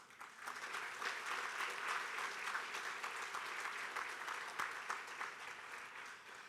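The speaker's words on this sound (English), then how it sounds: "Would you please give them a round of applause?" Steady applause from an audience at a Wilkes County Hall of Fame induction fills a hall, a dense, even patter of many hands clapping at moderate volume throughout, with no talk over it.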